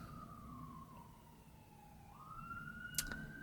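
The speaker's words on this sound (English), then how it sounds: "You can hear the police sirens going off behind me." A police siren wails in the distance, its tone gliding down and then up, faint beneath a low background rumble.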